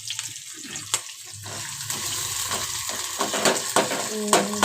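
Onions frying in oil in a pan, a close crackling sizzle with scraping stir strokes and wet splashy bursts that grow busier toward the end.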